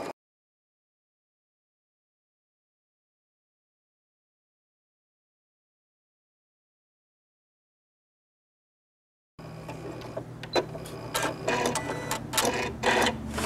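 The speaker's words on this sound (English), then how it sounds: "I'm just gonna drop a straight stitch right along here" A sewing machine runs a straight stitch along a garden apron, starting abruptly after a long silence with a steady hum and rapid needle clatter.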